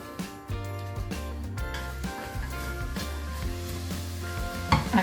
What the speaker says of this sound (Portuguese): Já colocamos a cebola, não precisa esperar esse azeite aquecer.